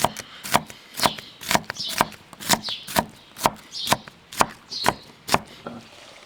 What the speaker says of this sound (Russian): Слегка измельчим алчу.